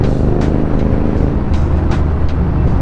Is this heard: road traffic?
yes